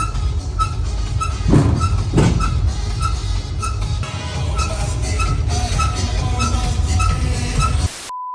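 A Gangchon Rail love train in Korea rolls past with a steady, loud rumble and repeated rhythmic clacks and squeaks from the wheels, continuing for several seconds without talk.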